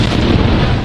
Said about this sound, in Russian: Работает наш танк по сепарам, которые засели в доме